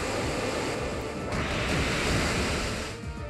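Waterfall attack from Pokemon Alpha Sapphire, a loud, dense rushing-water roar like crashing surf that sweeps and swells for a few seconds before easing slightly at the end.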